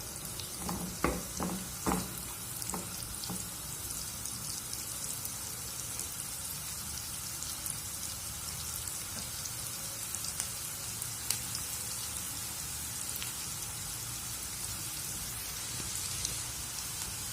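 Onions fry in a pan for smoked fava beans, a steady, even sizzle with a few sharp taps and clicks early on, close and unbroken, no voices.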